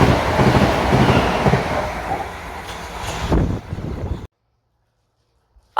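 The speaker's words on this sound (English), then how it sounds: "The train now approaching platform 2 does not..." A passenger train pulls into platform 2 at a West Sussex station, a loud, steady rumble of wheels and carriages that fades and cuts off abruptly, with a brief faint sound at the end.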